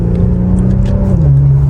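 Infiniti Q50 engine droning loud and close, held at a steady pitch before stepping down slightly, after its turbo failure and repair.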